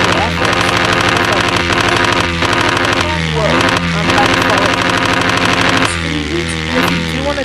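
Dirt bike engine from a VR video game, a loud continuous motor drone with steady harmonics and repeated revving swells throughout, heard alone with no talk.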